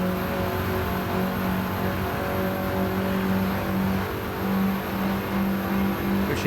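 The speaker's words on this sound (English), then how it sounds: "You hear the turbo really screaming." A Minimods race car engine roars continuously with a high, screaming turbo whine at Watkins Glen, steady and loud throughout without any voices.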